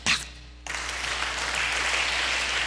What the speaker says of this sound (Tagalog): Palakpakan ta ang Ginoo nga nagbukas sa aton mga mata